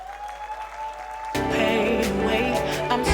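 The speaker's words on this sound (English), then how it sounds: "Ladies and gentlemen, help me with a round of applause." Conference audience applause at a fireside conversation event bursts in abruptly after a low steady tone and hum, then holds as a loud, dense, continuous clapping.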